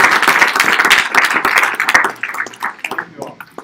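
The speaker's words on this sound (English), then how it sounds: "How about a round of applause for all our presenters?" A seminar audience gives the presenters a round of applause, loud, close and busy with sharp individual claps, then tapering off into scattered claps.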